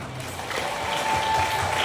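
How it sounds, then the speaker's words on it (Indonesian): A crowd claps steadily at a Quran competition final, a dense wash of applause building slightly louder over its short length. "Tepuk tangan yang meriah."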